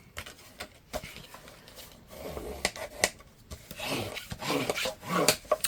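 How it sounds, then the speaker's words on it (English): Paper pieces are burnished onto a scrapbook folio, a soft irregular rubbing and scraping close at hand, with brief taps and swishes between strokes and no talking. "you want to do a light burnishing to start, just to make sure"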